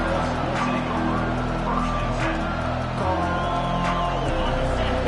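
Football stadium crowd cheering during a kick return, a loud continuous roar with scattered shouts and whoops, while a commentator talks over it.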